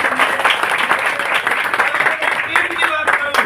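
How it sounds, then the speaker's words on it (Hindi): Enthusiastic applause from an audience at a business team event, dense and steady clapping throughout with speech-like voices mixed in over the top. "जोरदार तालियां एक बार मेरे"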